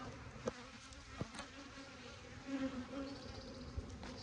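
Honeybees buzz around an open hive being checked for queens, a dense soft drone with some bees passing closer, and a few faint knocks; no talking.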